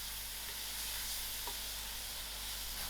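Soya mince and methi leaves with masalas fry in a pan, a loud steady hiss of sizzling oil filling the air, with a faint scrape or two of the spoon mixing beneath it, close up and without talk.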